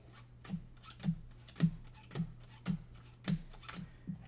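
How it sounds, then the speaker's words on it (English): Board game cards for Everdell being shuffled, a run of about eight soft, evenly spaced riffles or taps close to the mic on a quiet background, with no talking. "We're going to shuffle those, and then after you shuffle, you're going to deal out 8."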